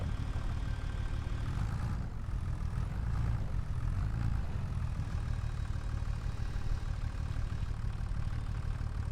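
A tractor engine in a logging simulation game hauls a loaded trailer, running as a steady, continuous mid-to-low drone that stays loud and unchanging throughout, with no voices.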